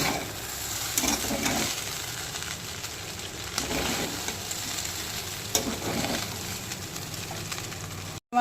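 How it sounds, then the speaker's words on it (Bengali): Street-style egg chicken chowmein tossed with egg bhurji in a hot pan, a dense steady sizzle with scattered scraping stirs throughout, close and loud with no speech. "এখানে আমি ডিম ভুর্জি বানিয়ে রেখেছিলাম সেগুলো দিয়ে দেবো। ভালো করে নাড়াচাড়া করে নেব।"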